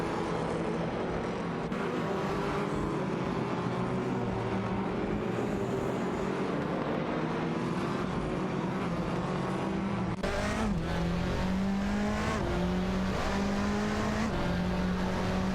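Race cars roaring through an AI racing video game, a continuous loud engine drone with pitch sweeps as cars shift and pass, a sudden change in tone partway through, and no voices over it.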